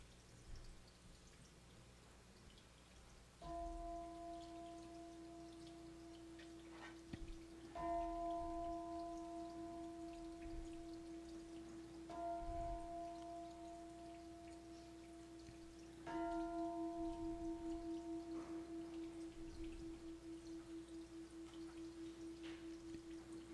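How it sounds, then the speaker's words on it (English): A chime rings four times during a church service, each strike a clear sustained tone that rings out and slowly decays, spaced several seconds apart over faint steady background noise with no talking. "We ring the chime 4 times to call in the 4 directions and to remind us of our interconnection with all of creation"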